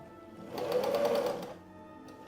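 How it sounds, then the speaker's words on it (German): A sewing machine runs in one short, fast burst of about a second while stitching patchwork star pieces, its needle chattering rapidly and evenly, close and alone in a quiet room. "Und so nähen wir das Ganze an."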